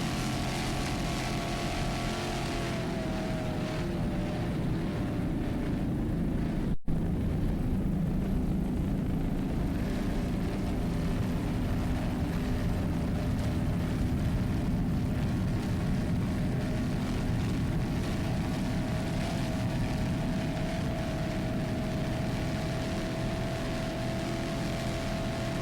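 Loud, continuous engine roar of a Super V light single racing powerboat running flat out in an APBA world championship race, a steady droning drone with no break.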